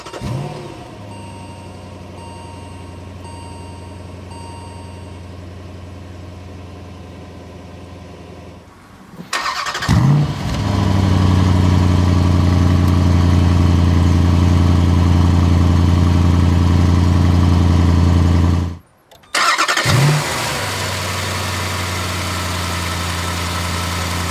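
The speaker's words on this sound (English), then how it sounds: "hit the red engine start button to go" A 2017 Jeep Grand Cherokee SRT fires up with a sharp starter catch, then settles into a loud, steady idle, briefly cutting out before restarting and running again with a deep, even rumble.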